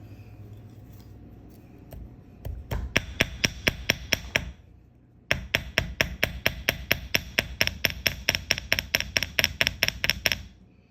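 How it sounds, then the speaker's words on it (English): A hammer strikes the end of jewelry wire on a metal bench block for a pearl necklace bail, giving a run of sharp ringing metallic taps in a steady rhythm, close and loud, pausing briefly and then continuing faster. "Let's hammer the end."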